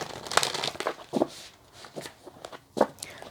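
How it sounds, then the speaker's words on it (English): A deck of cards being shuffled by hand, with several short crisp bursts of riffling and rustling, separated by brief pauses, close and moderately loud. "So let's shuffle the deck again."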